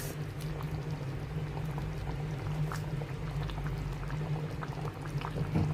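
A sardine curry bubbles gently in a pot, a steady low simmer with soft popping, close and unbroken.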